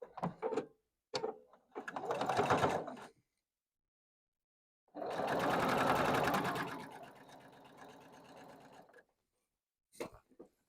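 Sewing machine stitching quilt block pieces together: short bursts of rapid mechanical needle chatter, then a longer steady run of several seconds, close and clear with pauses between.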